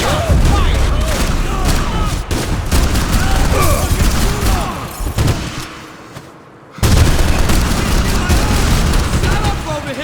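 Max Payne 3 gameplay gunfire: loud, close bursts of rapid shots and booming impacts pour out in dense volleys, pause briefly into near silence, then erupt again, with shouting voices mixed in.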